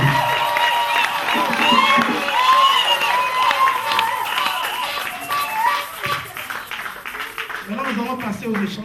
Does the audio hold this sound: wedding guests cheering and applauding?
yes